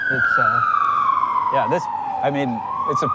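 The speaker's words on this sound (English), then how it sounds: "Where do you think that ambulance is going to that we can hear behind us?" An ambulance siren wails close by in a long descending then rising tone, while people talk briefly over it outdoors.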